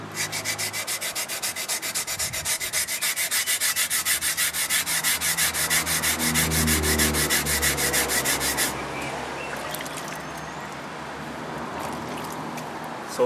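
Sandpaper rubbed rapidly back and forth across a Zimbabwean stone sculpture, a loud rhythmic rasping that stops after about nine seconds, leaving quieter room noise.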